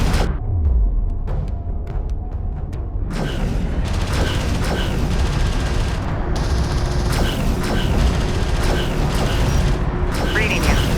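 Dense battle noise from Homeworld: Deserts of Kharak, with clattering weapons fire and booms striking an armored vehicle, continuous and loud throughout, with radio-style voice chatter mixed in.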